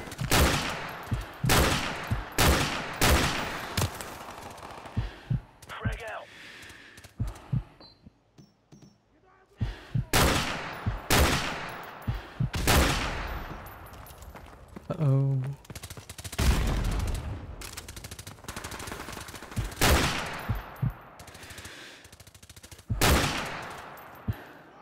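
Call of Duty 4: Modern Warfare gunfire crackles in loud, repeated bursts and rapid volleys, separated by brief lulls, with a short rattling mechanical burst midway.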